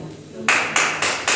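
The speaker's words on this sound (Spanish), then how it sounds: "fuerte el aplauso al Señor" Four loud, sharp claps at an even beat, close and crisp, following a prayer in a Spanish-speaking evangelical church service.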